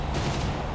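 Aircraft gunfire in the combat game War Thunder, a dense, loud blur of rapid shots forming one continuous roar in a very short burst.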